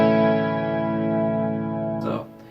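Guitar chord in open DAEAC#E tuning, a single strum ringing out with bright sustained harmonics before being cut off abruptly near the end.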